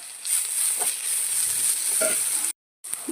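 Crushed ginger and green chili frying with onions in hot oil for a beef biryani, a steady close sizzle with a few stirring scrapes, cut by a brief silent gap near the end.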